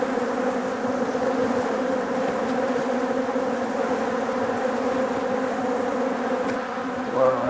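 A dense, steady drone of many honey bees buzzing together in an opened hive, close and unbroken.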